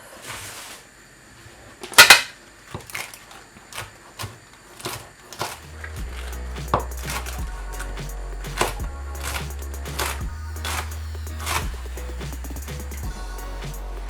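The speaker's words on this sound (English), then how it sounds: "Just going to shred the cabbage." A knife shreds cabbage on a chopping board, giving sharp, close, irregular chops and taps, with a low, steady rhythmic beat underneath from about midway.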